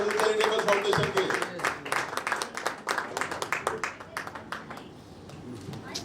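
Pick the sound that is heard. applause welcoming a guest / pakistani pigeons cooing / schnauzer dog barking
applause welcoming a guest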